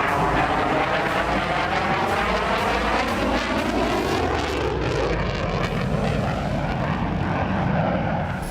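A Rafale fighter jet's engine gives a loud, continuous roar that holds steady with a slight shifting rumble across the whole stretch, with no voices over it.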